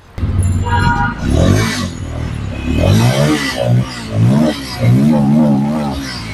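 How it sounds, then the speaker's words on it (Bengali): A used Bajaj Pulsar N250 motorcycle engine idling close by, then revved several times, its pitch rising and falling in rough, throaty bursts. "আর বাইকটির সাউন্ডটা দেখা দিচ্ছি আমরা"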